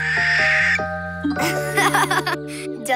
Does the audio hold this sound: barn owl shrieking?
yes